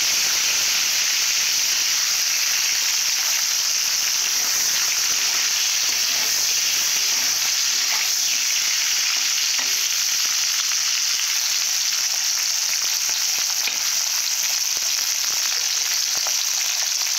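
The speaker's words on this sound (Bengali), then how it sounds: "টমেটোগুলোকে ভেজে নেব এইভাবে।" Tomatoes fry in a pan with a steady, loud, close hiss of sizzling oil that runs unbroken throughout, with no voices.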